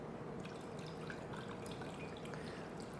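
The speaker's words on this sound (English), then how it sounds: "Yeah, pour the alcohol like this." Alcohol is poured into a resin 3D printer cleaning box holding the build platform, making a faint, continuous liquid trickle and splash with small drip-like patters throughout, with no talking.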